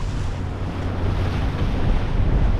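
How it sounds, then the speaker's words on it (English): Strong wind roars across the microphone while waves slosh and surge around a Hobie Cat FX One catamaran under sail at sea. The rush is loud and continuous, with no voices. "Oh, see, it's getting windy."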